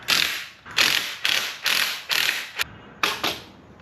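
Hand ratchet loosening flywheel bolts on a blown Mazda RX7 FC 13B rotary engine, seven sharp clicking bursts in a steady rhythm with short pauses, close and loud, no voices.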